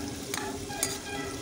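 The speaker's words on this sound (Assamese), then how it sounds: "পিঁয়াজখিনি অকণমান ভাজিম" Blended onion paste sizzles in refined oil for chicken korma, a soft steady frying hiss broken by two sharp scraping stirs of a spoon against the pan.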